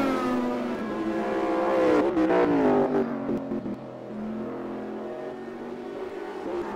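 A race car accelerates hard out of a corner onto an uphill section at Road America, its engine note rising and falling continuously at close range with no talk over it.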